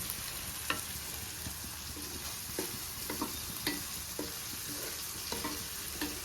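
Bitter gourd pieces fry in a pan with a steady low sizzle, punctuated by light clicks of a spatula stirring at irregular intervals, with no talk.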